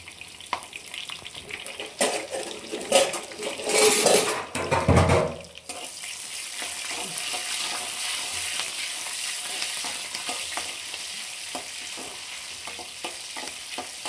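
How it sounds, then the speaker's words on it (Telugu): Garlic, green and dried red chillies and curry leaves hit hot oil as a tempering for ivy gourd fry, a loud burst of crackling and spattering that settles into a steady sizzle, with utensil clinks, close up. "వెల్లుల్లిపాయ, పచ్చిమిరకాయ, ఎండుమిరపకాయ, కరివేపాకు ఓన్లీ అంతేనండి. తాలింపు నేను వేసేది."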